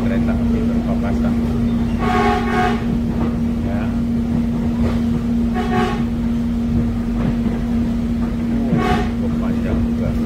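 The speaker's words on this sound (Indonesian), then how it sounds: "Oh, ini kereta api berpapasan." An airport rail link train rumbles past close by with a steady hum as another train passes in the opposite direction, while a few brief bursts of voices rise over the noise.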